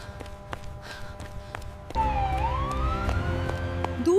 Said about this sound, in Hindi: दूर से सायरन की आवाज सुनकर उम्मीद जगी है।